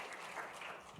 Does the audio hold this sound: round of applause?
yes